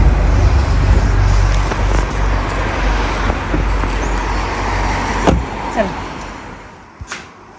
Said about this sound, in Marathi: आता मनोज थोडंसं गाडी मागे घेऊन